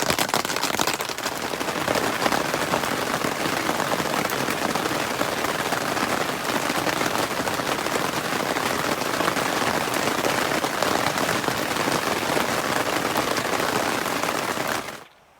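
Heavy rain pours steadily on a surface by a greenhouse, a dense continuous hiss with scattered drop impacts, cutting off abruptly at the very end.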